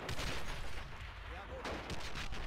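Artillery shells landing in the World War II game World at War, dense rumbling booms and cracks of gunfire across the whole stretch with a louder burst near the end, a commentator's voice running underneath.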